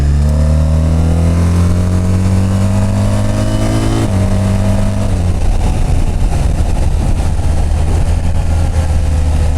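A 2026 BMW R1300RT motorcycle engine revs up loud and close, its rising pitch climbing steadily before a gear change, then continuing with a rough, strong roar and heavy wind rush.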